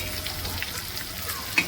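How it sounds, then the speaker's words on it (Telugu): Bangda fish frying in a pan with curry leaves, a soft steady sizzle with faint crackles and one small pop, close and alone. "మంచిగా ఫ్రై అయింది."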